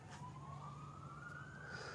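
A police car siren wails during a police chase, heard faint and distant as a rising, sustained tone over low traffic rumble.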